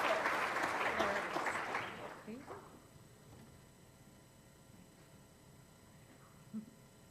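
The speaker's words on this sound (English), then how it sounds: "One final round of applause for Kelly." Clapping from an audience fills the first few seconds, then fades away into quiet room noise with a faint murmur.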